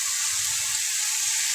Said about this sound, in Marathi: अगदी हलक्या हाताने आपल्याला हे हलवायचं.